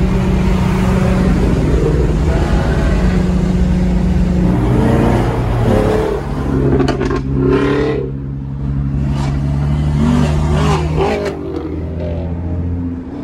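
Supercar engine revving hard at a Cars and Coffee meet in Columbia, South Carolina, with loud sustained rumbling and rising revs, a few sharp bursts, continuous throughout amid nearby crowd noise.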